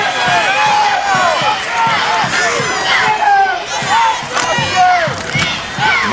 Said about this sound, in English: Boy, would this crowd have erupted if that would have been an interception.